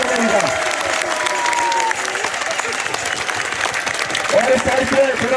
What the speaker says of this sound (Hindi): जरा जोरदार तालियों के साथ स्वागत करेंगे इनका।